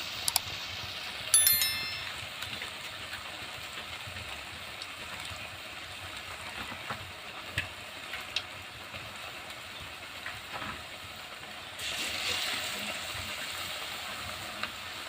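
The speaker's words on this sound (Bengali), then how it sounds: "লঙ্কাগুলো ওইভাবে আমি বেটারের মধ্যে ডুবিয়ে নিয়ে একদম গরম গরম তেলের মধ্যে" Battered green chillies deep-fry in very hot oil, giving a faint, steady crackling hiss broken by a few brief louder pops.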